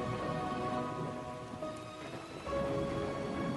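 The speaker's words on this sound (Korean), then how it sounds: "그대 오지 않는 골목으로 눈물 같은 비가 내립니다." Steady, close rain pours down in an even, dense patter that never lets up and carries no voices.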